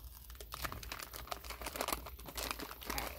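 A paper package sealed with a moon sticker is carefully opened up close, with steady crinkling, rustling and small tearing sounds.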